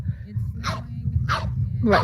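French bulldogs bark three times in short, evenly spaced bursts, fairly close, over a steady low background hum with people talking.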